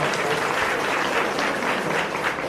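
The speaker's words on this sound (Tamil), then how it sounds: "நாம் எல்லோரும் கைத்தட்டி ஆசையோடு வரவேற்க வேண்டும் என்று கேட்டுக்கொள்கிறோம்" An audience claps steadily to welcome Annamalai and his team at a press meet, a dense, even wash of applause that continues throughout.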